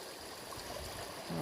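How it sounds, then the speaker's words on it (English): A stream at a water crossing on a mountain trail, a soft steady rush and trickle of flowing water heard close by, fairly faint, with a brief rustle near the end. "Yeah, I got a water crossing."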